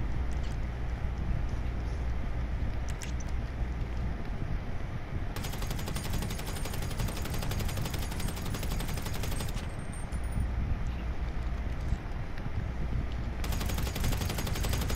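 Gunfire in Grand Theft Auto V plays as dense, continuous automatic bursts, loud and close, with brief pauses where the rattle thins before resuming.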